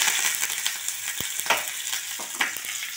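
Mustard seeds, urad dal and curry leaves sizzle in hot oil in a small tempering ladle, a close, bright crackling hiss with a few sharp pops and clinks.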